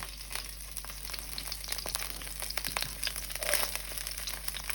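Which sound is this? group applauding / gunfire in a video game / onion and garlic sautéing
onion and garlic sautéing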